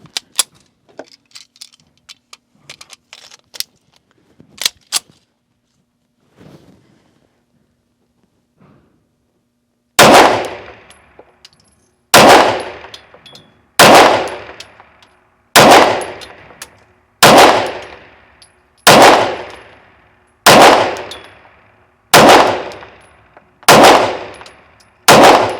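Springfield Armory Prodigy pistol fired at targets outdoors, with about ten sharp, loud shots at a steady pace of roughly one every 1.5 seconds, each followed by a short ringing decay. Faint clicks and handling noises come first.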